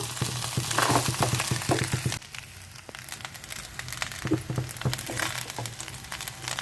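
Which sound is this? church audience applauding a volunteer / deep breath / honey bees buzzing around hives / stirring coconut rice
stirring coconut rice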